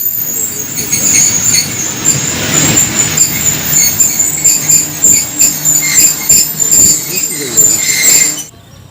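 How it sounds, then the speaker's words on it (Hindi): Train rumbling and clattering on the rails on a cold, sunny morning, a steady loud wash of wheel and carriage noise with high squealing tones throughout, ending abruptly near the close. "रुक गई है ट्रेन।"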